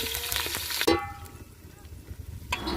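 Bagara masala spices hitting hot oil in a pan give a loud sizzle with stirring scrapes, then a sharp burst and a steady, quieter frying hiss that runs to the end.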